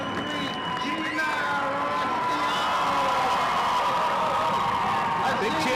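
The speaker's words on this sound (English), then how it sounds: "Big cheer for Gina" Crowd cheering and whooping at a girls' high school basketball playoff game as a starting player is introduced, a loud sustained roar of many voices filling the gym, with an announcer's voice over it.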